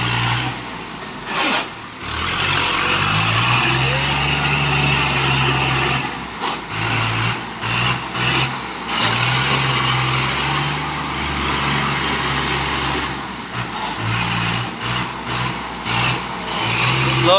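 A Fiat 480 tractor engine runs steadily with a deep, throbbing low rumble, close and loud, its pitch dipping and swelling a few times as the revs shift over about seventeen seconds, with no voices.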